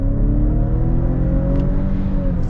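A 2024 Volvo V90 Cross Country's engine pulls steadily under acceleration, a continuous close hum with slowly rising tone that stays loud and even throughout.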